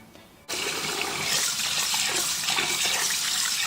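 Cold tap water suddenly gushes on and runs steadily, splashing into a bowl of rice being rinsed up close with a constant rushing hiss.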